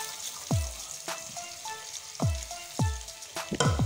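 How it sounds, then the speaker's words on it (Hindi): Crushed garlic and ginger frying in hot oil for bhindi masala make a crackling sizzle, broken by several sharp spitting pops and a few clinks, close up with no talk. "1/4 कप ऑयल ऐड किया, इसमें जाएगा 1 खाने का चम्मच लहसुन अदरक कुटी हुई। थोड़ा सा फ्राई किया इसे।"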